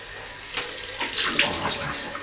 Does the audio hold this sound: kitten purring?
no